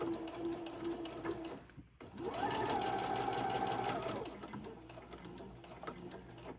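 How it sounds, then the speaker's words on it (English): A Singer Modern Quilter sewing machine runs in a steady mechanical burst of rapid stitching, starting after a short pause amid light background noise. "my Singer Modern Quilter sewing machine"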